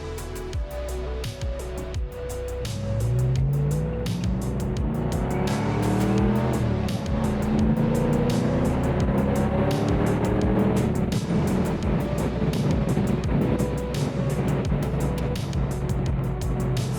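A 1990s Ford Mustang GT on a test drive. The engine is loud and close, revving and accelerating with rising and falling pitch and a steady rumbling growl throughout, with no voices over it.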